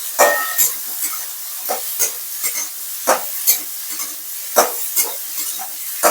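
Vegetables stirred in a lightly oiled pan with a spatula, giving a steady run of scraping, clattering strokes over a soft sizzle, close and fairly loud with no talk.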